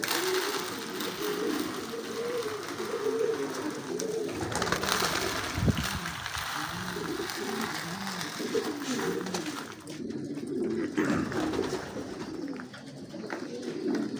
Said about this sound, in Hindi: वो देखें कबूतर कैसे शौक से खा रहे हैं दाना